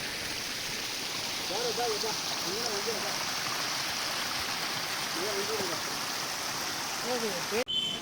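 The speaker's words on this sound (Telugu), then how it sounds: "ఆ వాటర్ సౌండ్ వింటుంటే మనని నేచర్ వెల్కమ్ చేస్తున్నట్టు అనిపిస్తుంది కదా" A small waterfall along a trekking path to a hill near Beerpur sends a steady, close broadband rush of flowing water, with a few faint bird chirps over it and a brief knock near the end.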